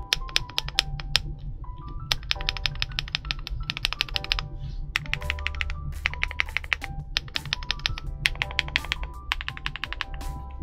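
Typing on a KiiBOOM Loop65 mechanical keyboard fitted with Matcha Latte switches, close, crisp repeated key clacks in fast bursts with brief pauses, over a low background hum.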